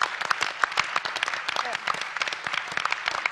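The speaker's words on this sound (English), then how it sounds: "Big round of applause while he reboots the server." Audience at a live startup demo for an app that helps addicts recover, giving a round of applause made of sharp, separate claps from a small crowd, moderately loud and steady, with voices underneath.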